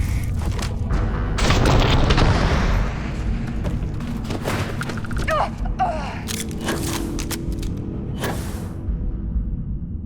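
Weapons fire in a Starfield battle: heavy booms and sharp, repeated cracks of gunfire, loud at first and then in scattered bursts, with a brief vocal grunt in between.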